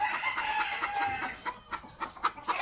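Hens on a Filipino backyard farm, mother chickens laying eggs, clucking in short repeated bursts at close range with a busy bird chorus behind, no talk.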